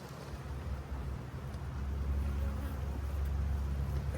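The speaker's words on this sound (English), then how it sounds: "This one's full of bees." Honeybees in an open hive during an inspection make a dense, continuous low buzzing hum that swells slightly, steady and fairly close throughout.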